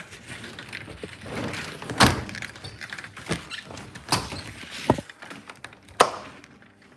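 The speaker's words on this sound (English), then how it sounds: "I just want to make sure we close the door properly" A back door is pushed shut and locked at a house, giving several sharp thuds and knocks spaced across the moment, with rattling handling in between and no talk.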